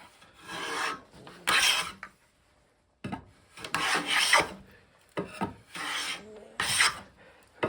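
A PW 90 molding plane cuts shavings from wood in a series of close rasping strokes, several uneven swipes with short pauses between them, a dry scraping texture heard alone.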